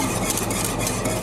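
Crème pâtissière being whisked continuously in a pot on the heat while it thickens, a steady close scraping and stirring texture with faint sizzle, no talk.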